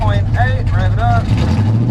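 A Maverick's engine is revved up from roughly 1,000 rpm idle, giving a loud, close, steady low rumble while a voice talks over it.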